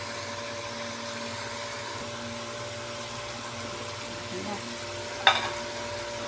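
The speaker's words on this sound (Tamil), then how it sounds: "பாருங்கள் வறுக்கிறது நல்லா" Mushroom gravy frying in a pan in a home kitchen, a faint steady hiss with a low background hum and a brief clatter near the end.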